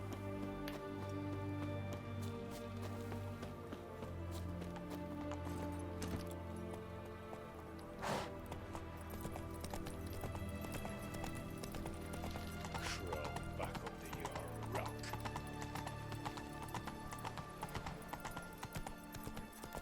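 Hooves of Roach, the horse in The Witcher 3, clip-clop steadily at a gallop amid game ambience, with an occasional neigh, while a faint voice talks at moments.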